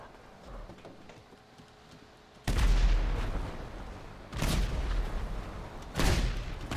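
Three heavy booms from tank cannons in Grand Theft Auto, each a loud blast with a rumbling tail, land a couple of seconds apart over faint background game noise.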